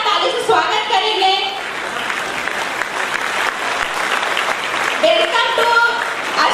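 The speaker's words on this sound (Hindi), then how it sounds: "जोरदार ताली से स्वागत करेंगे।" An audience gives loud, sustained applause to welcome a guest onto the stage at a network marketing event, with dense clapping throughout and voices faintly underneath.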